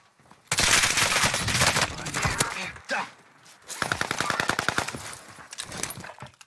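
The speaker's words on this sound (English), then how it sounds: "You started shooting." Rapid automatic gunfire in Call of Duty: Warzone Pacific, two long loud bursts of fast repeated shots separated by a short pause, close and dominant, with a brief voice between them.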